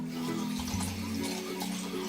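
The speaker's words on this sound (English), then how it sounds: "get your flannel and put some hot water on it" Hot water runs steadily from a tap onto a flannel, a continuous close splashing wash of water with no talk, filling the short stretch at an even level.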